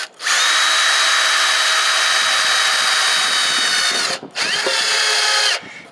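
A power drill drives a 3-inch self-tapping deck screw into a wooden raised-bed board, a loud steady whine for about four seconds, a brief pause, then a second shorter burst as the screw seats.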